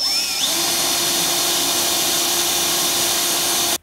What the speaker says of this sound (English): now that we've got our pilot hole drilled